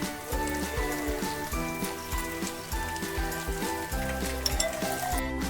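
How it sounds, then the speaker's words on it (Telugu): Bitter gourd pieces sizzle in a pan of hot oil, a steady close crackle and hiss with a few faint clinks, while music plays throughout. "ఇప్పుడు మనం కాకరకాయ తీసుకున్నాం కదా, ఫ్రై చేద్దాం."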